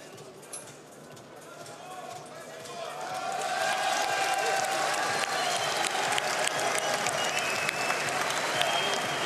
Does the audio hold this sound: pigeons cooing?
no